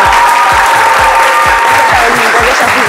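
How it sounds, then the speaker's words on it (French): Studio audience applauding loudly and steadily for a guest on a French midday TV show, dense clapping filling the whole moment with a steady tone and rhythmic low thumps underneath. "Manuela Pokosi, que je vous demande d'applaudir très fort."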